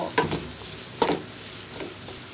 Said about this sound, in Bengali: পেঁয়াজ এবং রসুন কুচিটা কিছুক্ষণ ভেজে নিব